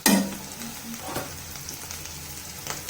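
Samosa filling with chat masala, dry mango powder and salt frying in a pan, a steady close sizzle with occasional scraping stirs and no talk.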